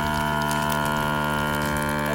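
A vacuum sealer pumps air out of a freezer bag of food with a loud, steady mechanical hum and drone that holds unbroken throughout.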